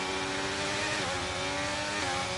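Several Formula 1 race cars in the F1 23 racing game run together, their engines forming a continuous, loud, high-pitched whine with shifting tones, no voices over it.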